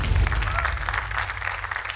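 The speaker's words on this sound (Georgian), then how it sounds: "აპლოდისმენტებით გავაცილო" A studio audience at a Georgian TV comedy contest show applauds steadily, a dense, even wash of clapping that lasts throughout.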